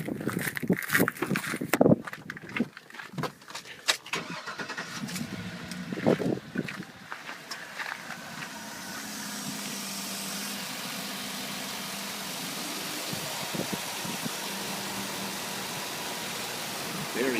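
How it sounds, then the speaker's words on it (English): A 2005 GMC Denali pickup truck engine turns over amid some clunks and knocks, then settles into a steady, even idle that continues for several seconds. "Let me fire it up and you can listen to it under the hood."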